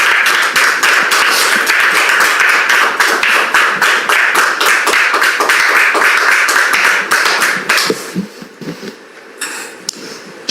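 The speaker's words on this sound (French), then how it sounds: "Sous vos applaudissements." A studio audience on a talk-show set claps loudly and steadily for several seconds, then the applause thins to scattered claps and fades.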